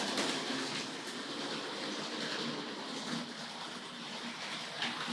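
Hornby Oliver Cromwell model locomotive from the 1970s hauling Pullman cars around the track, a steady, fairly faint continuous rolling rumble with light clicking, no speech.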